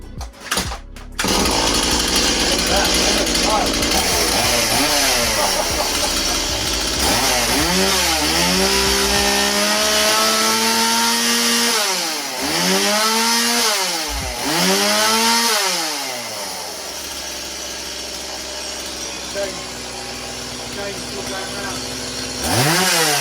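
A repaired chainsaw sputters to life and runs loud and close, its engine revving up and down in several rising and falling surges before settling into a steady idle, with a voice talking briefly over it.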